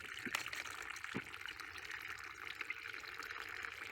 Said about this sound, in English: I put it on top, pour all the seeds in